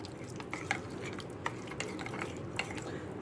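Grated beetroot stirred into yogurt for raita: faint, close, wet stirring with small clicks and taps of a spoon against the bowl at an irregular rhythm, with no talk.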